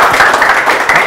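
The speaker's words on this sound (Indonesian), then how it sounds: "boleh tepuk tangan dong" Audience clapping at a small gathering, a short loud burst of dense applause with no voices over it.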